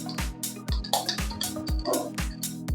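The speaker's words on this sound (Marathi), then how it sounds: "तर राई तडतडली" Mustard seeds spluttering in hot oil in a kitchen pan, a steady run of sharp crackles and pops close by, with no talk over them.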